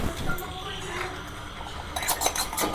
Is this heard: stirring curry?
yes